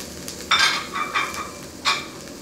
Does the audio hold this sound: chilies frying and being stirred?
yes